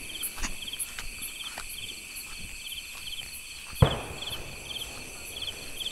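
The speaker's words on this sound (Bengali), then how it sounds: "কীরকম ঝিঝি ঝিঝি ডাকছে সব।" Crickets chirp at night in Diglipur, North Andaman, in a steady high-pitched trill that runs the whole time, joined by a few footsteps and one sharp knock.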